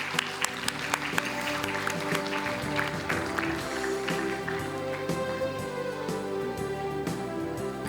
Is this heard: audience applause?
yes